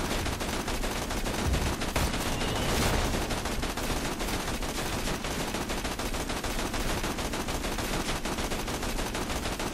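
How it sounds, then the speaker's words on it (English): Dense, continuous automatic gunfire in a Borderlands 2 co-op firefight, loud and steady for the whole span with rapid shots layered over one another. "Suppressing fire!"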